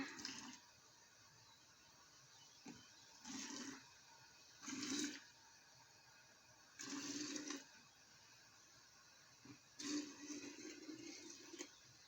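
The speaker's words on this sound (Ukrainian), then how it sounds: "А тепер буду заливати воду." Water pours into a glass jar in several separate bursts, each lasting about a second, with short quiet gaps between them. The pouring is close and fairly soft, and no one speaks.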